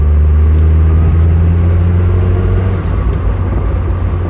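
Loud, steady engine rumble from a supercharged Mark II Mazda MX-5 1.8 fitted with an Eaton M45 supercharger, holding a strong low droning note close up throughout.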